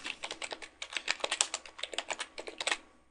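Rapid typing on a computer keyboard as a plugin search is entered: a steady run of close, crisp key clicks in irregular bursts for about three seconds, with no talking.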